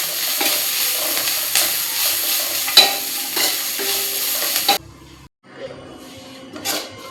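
Capsicum frying in a pan with a constant sizzle and hiss while a utensil scrapes and stirs through it, then the sizzle drops away to quieter clatter.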